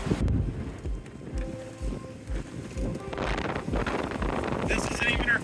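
A sailboat under way in the Bahamas gives steady wind rush and water wash against the hull, with gusting wind buffeting the microphone and people talking over it.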